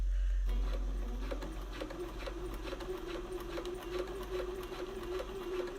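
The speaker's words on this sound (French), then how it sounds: "je peux faire du quilting en piqué libre" Domestic sewing machine doing free-motion quilting, a steady close motor whine with rapid needle taps in an even rhythm after a short start-up, running alone without talk.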